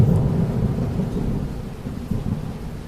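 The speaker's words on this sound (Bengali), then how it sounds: "বাইরে বৃষ্টি হচ্ছে" Rain and thunder outside in a Bengali horror cartoon: a deep, steady rumble of thunder rolls beneath continuous rainfall, fairly loud and unbroken, with no voices.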